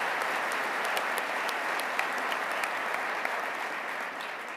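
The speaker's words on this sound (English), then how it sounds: "Let's give them a round of applause on this beautiful new convention center." An indoor audience at a regional economic development awards event applauds the new Albany convention center, a dense, even wash of clapping sustained throughout, fading slightly at the end.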